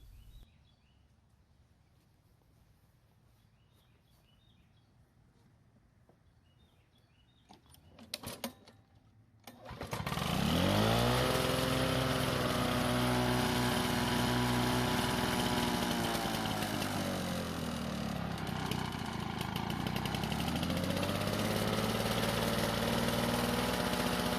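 A Lawnboy lawn mower engine, recently fixed after being hard to start, sputters briefly, then catches and settles into a loud, steady idle that holds close and continuous for the rest of the stretch.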